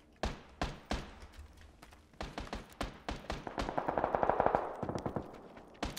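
A decoy grenade in the PUBG video game imitates gunfire with bursts of sharp, rapid shots that build into a dense automatic volley and then taper off, loud and close.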